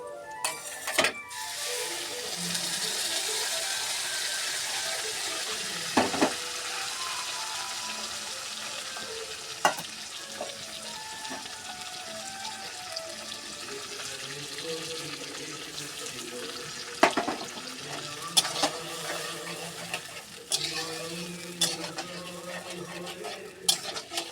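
Onion and potato frying in a pan as ginger-garlic paste and spices go in, a steady broadband sizzle with scattered sharp clinks of a utensil against the pan, no talking.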